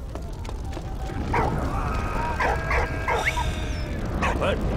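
A dog in the game Valiant Hearts gives a string of short barks and yips over a steady low background hum, the bursts clustered in quick pairs and moderately close.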